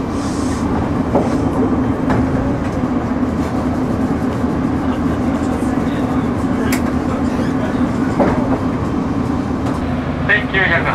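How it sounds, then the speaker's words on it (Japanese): An Odakyu Romancecar 7000 series LSE electric express train rumbles steadily along with a constant low drone and occasional clicks from the rails, heard from inside the carriage while passing Seijogakuen-mae station. "電車はもう間もなく成城学園前駅を通過いたします。"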